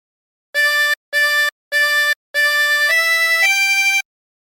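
Phrase 3 of Be Thou My Vision on a 24-hole tremolo harmonica: four short repeated notes, then a longer held note that steps up twice in pitch, reedy and shimmering, clear and solo.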